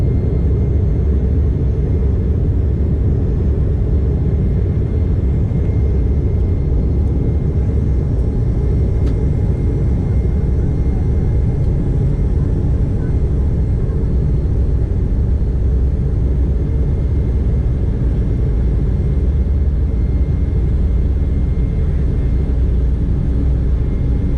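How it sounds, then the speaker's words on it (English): Airliner rolling down the runway for takeoff from Mallorca, heard from inside the cabin as a loud, continuous low rumble and roar that stays steady from start to finish. "We're on our runway now, and here we go."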